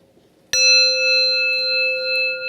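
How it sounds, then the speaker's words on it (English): A mindfulness bell rings out from a single strike, its clear metallic tone sustaining with bright overtones and slowly fading in a quiet room. "So I'm going to first invite the sound of this bell."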